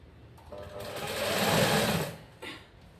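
A sewing machine stitches a blouse in a short, close burst that rises and fades over about a second and a half, followed by a brief second run, with no talk over it.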